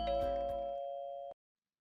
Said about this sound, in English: Doorbell rings.